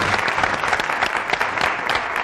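Studio audience applause on a Spanish television morning programme, loud continuous clapping from a full crowd throughout.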